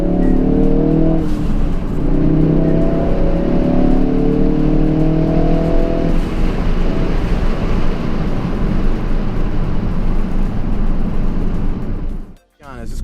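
A Ford Focus RS accelerates hard on backroads, its engine revving up through rising tones before settling into a loud, continuous roar, with a brief drop near the end and a voice talking over it.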